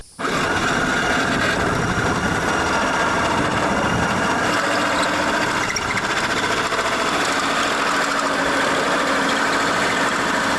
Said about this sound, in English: I'm gonna drill my hole, get the box in.